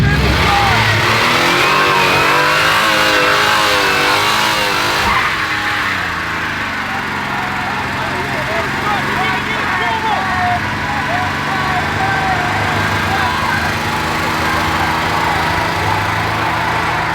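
A car engine at a car meet revs hard and steadily during a burnout, loud and close throughout, with the pitch climbing and wavering as a crowd's voices blend underneath.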